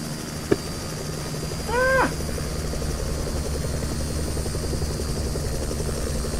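Simulated helicopter flying around airport boarding gates and jet bridges in a flight simulator game: a steady, even engine-and-rotor drone running throughout, with a short rising whistle-like tone near the two-second mark and no talking.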